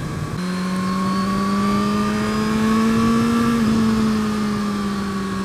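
A Suzuki GSX-R1000R motorcycle accelerating on the road, its engine a loud, steady, smooth drone that climbs gradually in pitch and then eases slightly, with no voices.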